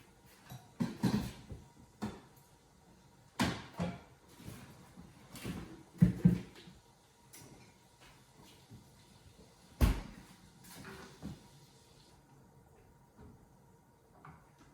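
Several quiet bumps and clunks of a refrigerator door opening and shutting, spaced irregularly, with faint rattling in between and no talking.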